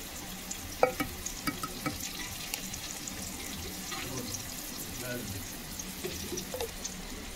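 Spicy potato balls fry in hot oil, giving a steady low sizzle with scattered crackles and pops, one sharper pop standing out early, all close by.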